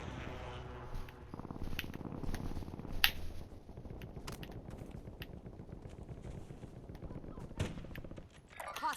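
Video game gunfire: sharp rapid shots and machine-gun rattles, fairly faint and distant with one crisp loud crack, mixed with combat game noise and soldier voices calling out.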